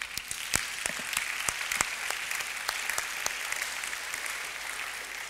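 A church congregation breaks into sustained applause at a solemn convocation service, many hands clapping steadily at close range with a few sharper individual claps standing out across the whole stretch.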